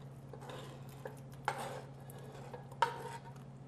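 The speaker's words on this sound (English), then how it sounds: "Now we mix the sauce and the noodles and put it in a casserole dish." Casserole sauce and noodles being mixed in a dish, with soft scraping and stirring and two sharper clinks of a utensil against the dish, quiet and close, without talk.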